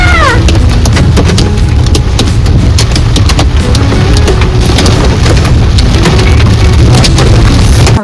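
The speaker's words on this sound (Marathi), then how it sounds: "आमच्या गाडीवर पूर्ण आवाज येत आहे पावसाचा बघा." Heavy rain drums hard on a car during a rainy family drive, a loud, dense, continuous patter close on the roof and windows with sharp drop impacts throughout and no talk.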